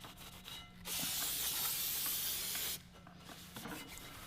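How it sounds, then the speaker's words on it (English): Aerosol brake cleaner hisses close by for about two seconds during a clutch and flywheel install on a Fox-body car, starting and stopping abruptly, with faint rubbing before and after. "we're gonna use some brake clean, spray it off, wipe it off."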